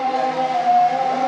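An ambulance siren wails steadily as the vehicle arrives at the Kramat Jati police hospital in Jakarta, carrying on loud and close without a break and with no voices over it.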